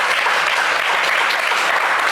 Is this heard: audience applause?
yes